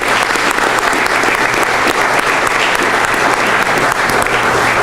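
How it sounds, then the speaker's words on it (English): A large audience at a State of the Cities 2018 event breaks into loud, dense applause that holds steady throughout. "That does deserve a round of applause."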